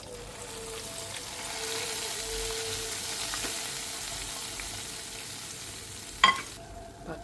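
Steady crackling sizzle of mint frying in hot olive oil, close up and fairly quiet, with a sudden sharper hiss burst near the end.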